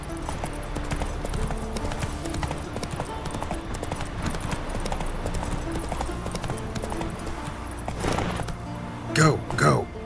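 A horse named Roach walks with a steady, rhythmic clip-clop of hooves, accompanied by light jangling of tack, and a voice speaks briefly near the end.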